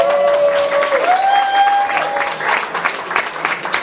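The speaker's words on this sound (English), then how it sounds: "Don't applaud so much," A crowd at the 18th annual Irwin Awards claps steadily in a broad, dense wash of applause across the whole stretch, with a held tone and rising glide near the start layered over the clapping.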